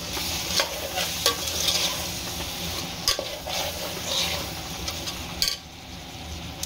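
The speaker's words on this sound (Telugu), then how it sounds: "అందుకని ఇప్పుడు ఉప్పు కారం వేసాం కదా, ఒకసారి కలుపుకుందాం." A spoon stirs yellow round cucumber curry seasoned with salt and chili powder in a sizzling pan, with steady frying hiss and repeated scraping strokes against the pot, close and moderately loud, no talking.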